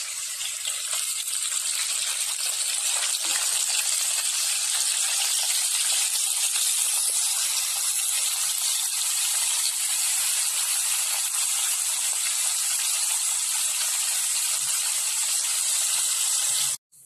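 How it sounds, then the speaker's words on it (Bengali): Pabda fish and prawns frying in oil in a home kitchen, cooked village style: a steady, loud, continuous hiss and sizzle that stays even from start to finish with no talking. "পাবদা মাছটা চিংড়ি মাছটা ভেজে নেবে"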